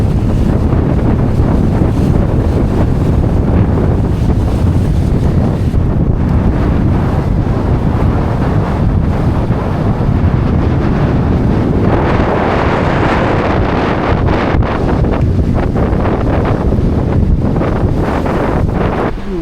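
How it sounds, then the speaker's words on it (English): Strong wind of about 20 knots blowing across a sailboat at sea on passage from the Bahamas to Saint Martin, a loud continuous roar and buffeting on the microphone, with rushing water beneath and no voices. "Wind is about 20 knots"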